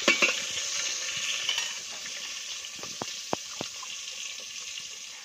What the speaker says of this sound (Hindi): ये देखिए, मछली फ्राई हो रहा है। मम्मी फ्राई कर रही है मछली।